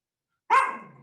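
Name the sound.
dog barking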